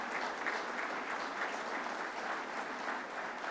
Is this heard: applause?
yes